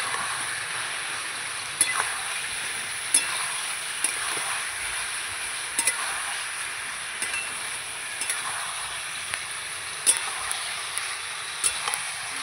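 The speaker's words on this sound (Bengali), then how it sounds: "ভালো করে একটু নাড়বো।" Ginger and garlic frying in a pan, a steady soft sizzle with regular sharp clicks and scrapes from a spoon stirring against the pan, close and alone without speech.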